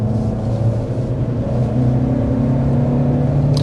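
The small turbo engine of a 2025 Chevy Equinox RS under hard acceleration: a steady, fairly smooth droning hum and low whir, heard from close by without pause and with no voices.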